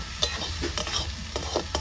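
Spices fry in hot oil in a pan, a dense sizzle broken by quick scraping stirs of a spoon, close and continuous with no voices.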